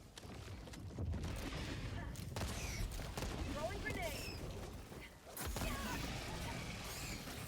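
Impact grenade explosions in the video game Helldivers 2, a rapid string of loud, overlapping blasts mixed with sustained gunfire and combat noise, dense and continuous throughout.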